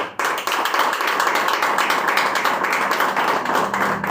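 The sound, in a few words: congregation clapping hands in church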